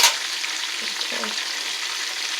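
Chicken drumettes sizzling in a frying pan, a continuous bright crackling hiss that opens with a quick clank and stays steady throughout.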